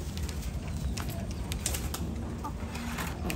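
Pigeons kept by a breeder, soft cooing heard faintly in a noisy pen among rustling and scattered bird sounds, with no clear speech over it.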